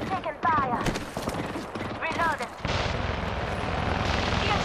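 Rapid gunfire bursts in the Apex Legends battle royale game, clattering volleys early on giving way to a steady loud barrage, with game voice lines and chatter mixed in.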